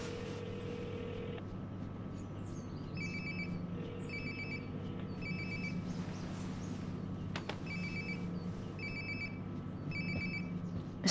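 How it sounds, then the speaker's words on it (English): A phone rings repeatedly in short patterned bursts nearby inside a video game scene, fairly quiet over a low steady background hum, with no one talking. "Sounds like my phone is definitely nearby."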